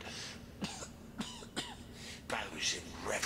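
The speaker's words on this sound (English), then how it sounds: "How's he coughing? He's got no lungs." A character in Divinity Original Sin Enhanced Edition coughs several times inside the Lucculla Mines, short sharp hacking bursts spaced apart, fairly faint, with some talk around them.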